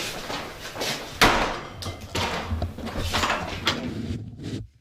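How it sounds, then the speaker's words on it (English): A door slams shut with a loud close thud, followed by scuffling, knocking and clattering in a room, at the Hulbert House in Boonville, NY. "So, here we go with the door slamming video clip."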